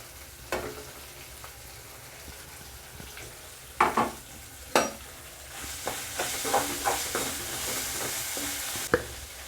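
Chopped onions and green chilies sizzle and fry in a pan, with a few sharp clinks of a utensil stirring and scraping, the hiss building steadily toward the end.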